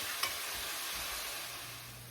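Onions sauté in a pan for Punjabi chana masala, a soft steady hiss of gentle frying with one faint tap at the start, quiet and even throughout.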